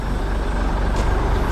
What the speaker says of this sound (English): I'm driving along and all of a sudden I'm like, something's loud. Yeah, the truck.